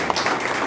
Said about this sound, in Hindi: इसके लिए इनका हौसला बढ़ाइए और अच्छी तालियां बजाकर